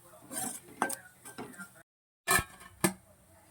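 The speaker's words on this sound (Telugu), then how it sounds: "కారము, వెల్లుల్లిపాయ, జీలకర్ర, సాల్ట్ వేసి వేపాను" Chili powder, garlic, cumin and salt being fried in a pan, heard as close scraping and clinking of a utensil against the pan in uneven bursts, with a short silent break midway.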